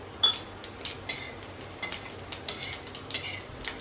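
Whole cloves, bay leaves, peppercorns and cumin roasting in a pan over a medium gas flame for biryani, giving soft repeated clinks and scrapes as they are stirred, close and fairly quiet with no talk.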